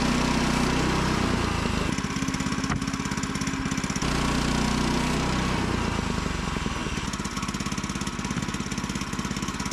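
A Woodland Mills sawmill runs while it cuts 3/4 inch thick cedar boards, giving a loud, steady engine drone with a rough mechanical chug that continues throughout without a break.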